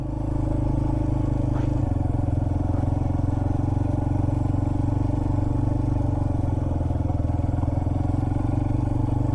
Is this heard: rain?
no